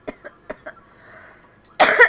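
Four short, sharp coughs in quick succession, close and fairly loud, followed by a brief pause and then a burst of noisy rustling.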